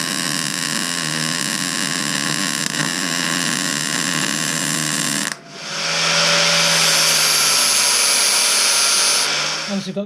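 A power drill bores holes in a part during a Royal Enfield bobber motorcycle build, a steady loud whine running continuously and shifting to a higher-pitched pitch midway.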